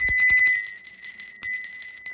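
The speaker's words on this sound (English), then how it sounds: "So let's give my bell a listen." A small handheld bell used to clear energy rings with a rapid series of bright metallic strikes, then sustains high shimmering overtones that slowly decay, close and loud with no talking.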